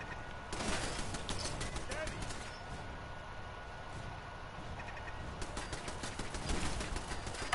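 Turret gunfire from Fallout 4 rattles in fast, dense bursts of sharp cracks, sustained for several seconds at moderate loudness.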